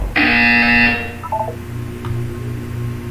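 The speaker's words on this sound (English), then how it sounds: "When you hear the buzzer, look down at the floor." A loud, steady electronic buzzer sounds for about one second during an instructed physical and mental wellness exercise, then cuts off, leaving only faint room noise.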